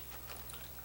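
Hot Cheetos crunched close to the mouth. It comes across as a faint, brief bite with a little crisp crackle over a low steady hum, and no talking.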